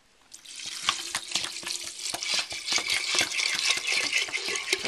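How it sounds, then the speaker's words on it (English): Water pours steadily into a pot of dried pinto beans for frijoles de la olla, a continuous splashing rush that builds and fills out over several seconds, close and fairly loud, with no one talking. "we're going to use enough water here to cover them"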